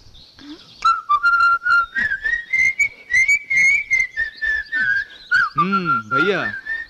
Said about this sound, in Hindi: ये सीटियाँ किस खुशी में बजाई जा रही है